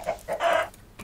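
A chicken in the video game Minecraft clucks in a few short, close bursts, with one longer cluck in the middle and a brief one at the end.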